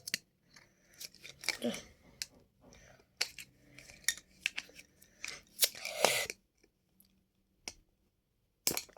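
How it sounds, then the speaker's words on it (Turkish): Crisp snipping and crinkling of scissors working through packaging, a series of close, irregular cuts with short pauses between them. "ben makasla açıp geleyim"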